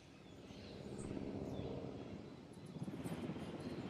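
A helicopter in the video game Jurassic World Evolution whirs with a steady, soft rotor drone that swells slightly and holds for several seconds, faint and distant with no talking over it.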